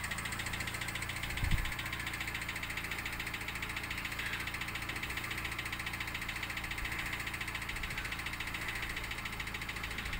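Red car's engine running as it pulls away, a low, steady mid-range hum that stays even and fairly quiet throughout, with one brief thump early on.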